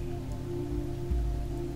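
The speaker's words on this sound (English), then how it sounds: "Focus on the rain instead. Watch each droplet fall, splattering against the ground outside and the fabric above you." Rain falling steadily on the ground and on fabric overhead, a soft, even patter with a low hum underneath, faint and continuous.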